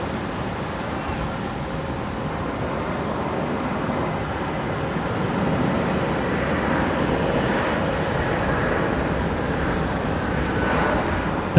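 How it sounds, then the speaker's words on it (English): A Jetstar Airbus A320 comes in to land at Brisbane Airport at night on a flight from Canberra. A broad, steady jet rumble swells slightly toward the end, heard alone without voices. "next inbound, just about to land, is Jetstar 657 coming in from Canberra. Looks like a 320CO operating this one"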